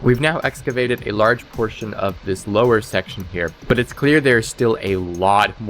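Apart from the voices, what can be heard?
No everyday noise stands out behind the speech.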